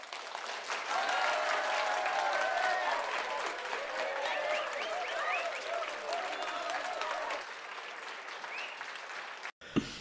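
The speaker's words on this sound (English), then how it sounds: "Let's have a round of applause for the Grey one." An audience breaks into a round of applause with scattered whoops and cheers, steady clapping for several seconds that thins out toward the end before a sudden cut.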